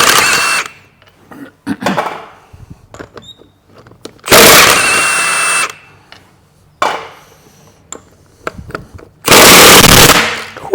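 A pneumatic impact gun hammers at a tight suspension wishbone bolt on a Rover 75 in three loud, close rattling bursts, the longest lasting about two seconds, with quieter clanks and knocks of work in between.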